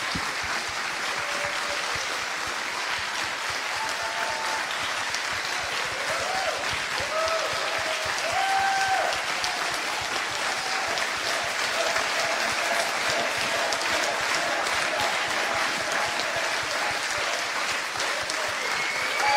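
A large convention audience gives sustained applause, a dense, even wash of many hands clapping that continues steadily for nearly twenty seconds.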